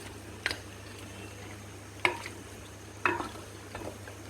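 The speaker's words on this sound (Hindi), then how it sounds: "इसको हम अच्छे तरीके से मिक्स कर लेंगे और भून लेंगे।" Mutton paye with turmeric is stirred in a pot, giving a few separate scraping clacks of a spoon against the vessel over a faint, low background hum.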